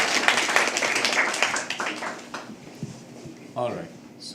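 Open mic poetry audience clapping, scattered claps that thin out and fade within the first couple of seconds, followed by a voice speaking.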